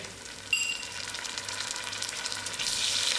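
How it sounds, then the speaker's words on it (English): Garlic drops into a pan of frying onions and curry leaf, setting off a sharp burst of sizzling that settles into a steady, bright crackle of hot oil, growing slightly louder toward the end, with no talk. "My onions and the curry leaf is done, so I'm putting in my garlic"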